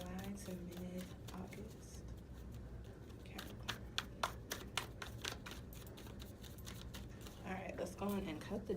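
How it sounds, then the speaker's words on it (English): A deck of tarot cards is shuffled by hand, giving a quick run of crisp riffling clicks and soft flutters in the middle of the stretch, with a quiet voice murmuring faintly at the start and end. "we're going to finish shuffling because I just want to give y'all a reading"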